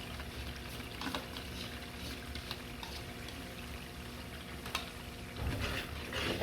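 Yogurt and tomato sauce poured into a hot frying pan of spiced chicken for morog polao and stirred, a soft steady sizzle with scraping and occasional clinks of the spoon, quiet throughout.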